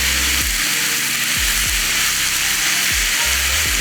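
Chopped garlic sizzling steadily in a hot pan alongside onions, a loud continuous frying hiss close by, with a few soft low knocks as the pan is stirred.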